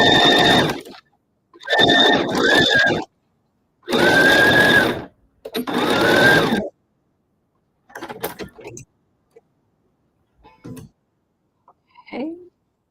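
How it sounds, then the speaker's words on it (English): A sewing machine stitches binding onto a quilt in four bursts of steady, close whirring, each a second or so long, with short pauses between them and faint handling clicks and rustles afterward. "Then I'm going to clean my sewing machine and say goodnight."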